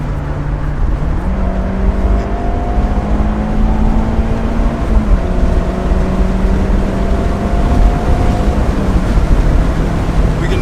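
A 2024 Mazda Miata accelerates hard after a downshift, its engine droning steadily and climbing in pitch through brief shift breaks, loud and close over road and wind noise with no talking.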